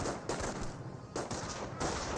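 Rapid gunfire bursts from a garrisoned building window in Company of Heroes, the World War II strategy game, come in three loud, close volleys separated by short pauses, with dense crackling rifle and machine-gun fire.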